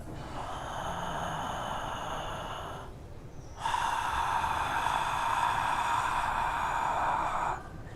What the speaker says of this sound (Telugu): నోరు తెరిచి చూడండి. శ్వాసని పీల్చుకునేటప్పుడు ఈ విధంగా